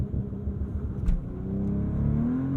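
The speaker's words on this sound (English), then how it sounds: "pin the throttle, it'll build up the revs, then you let go of the brake" A 2023 Bentley Flying Spur Speed's W12 engine revs steadily under launch control, building and holding a rising drone while the car sits loaded up on the brake, with no voices.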